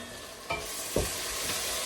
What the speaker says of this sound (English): And I'm going to stir this one once again.